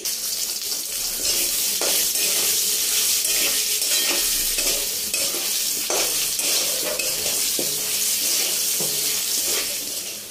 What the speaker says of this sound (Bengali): ভালো করে হলুদ দিয়ে আমি ফ্রাই করে নিচ্ছি